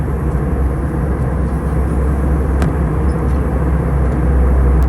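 Steady, loud broadband roar fills an Airbus A321 cabin on an American Airlines flight from Dallas/Fort Worth to Phoenix during descent, a constant engine and airflow drone with no talk.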